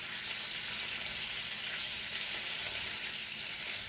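Burger patty for a bacon cheeseburger frying in a pan, a steady, dense sizzle holding evenly loud throughout with no pauses and no talking.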